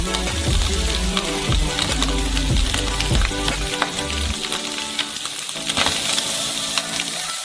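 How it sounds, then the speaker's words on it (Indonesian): Vegetables frying in rendered bacon fat in a pan for lasagna, loud continuous close sizzling with stirring scrapes and clatter in the first half, then a thinner crackle, no voices. "Dan sudah menggoreng semua sayuran kita di atasnya."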